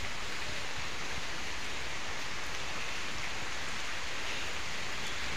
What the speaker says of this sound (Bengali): কি যে বৃষ্টি দেখেন, পুরো ভিজাই গেছি